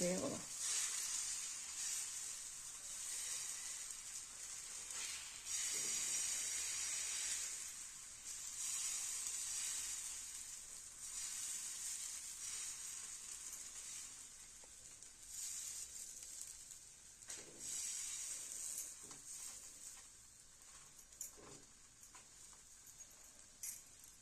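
Wheat flour ghavne batter sizzling in an oiled pan, a steady soft crackle with faint pops running throughout, fairly quiet and close.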